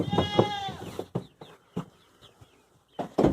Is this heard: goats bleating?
yes